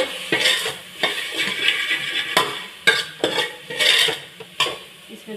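Soya chunks with turmeric are mashed and stirred in a pan, giving a close series of irregular metallic scrapes, taps and clatters of a utensil against the pan.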